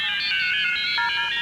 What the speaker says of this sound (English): Ah, it's ringing.